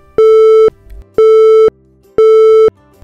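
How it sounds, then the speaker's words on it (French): Busy tone from a Yealink T5 desk phone for a rejected call, three identical loud, clean electronic beeps at a steady pace, each about half a second long with equal gaps between them. "Lorsqu'un appel est rejeté, l'appelant entendra ce bip de tonalité"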